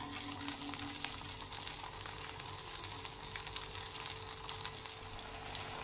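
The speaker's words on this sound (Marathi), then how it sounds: "इथे मी तेलामध्ये टिक्की फ्राय करत आहे।" Aloo tikki patties deep frying in a pan of oil give off a steady, soft sizzle and crackle that runs unbroken, fairly quiet and without any voices.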